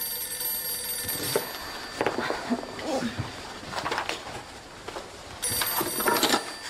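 Telephone rings in an office setting in a series of repeated ringing bursts, moderately loud with a faint background hum, while indoor sounds continue between the rings.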